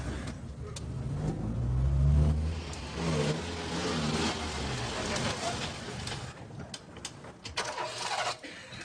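A car engine stalling, with uneven sputtering revs that surge and die away over several seconds, and voices talking intermittently over it.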